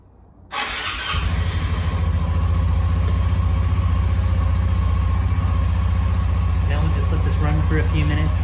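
A 2021 Honda Trail CT125 motorcycle engine catches after a brief start, then settles into a steady, loud, close idle with a low throbbing drone and faint higher whine throughout.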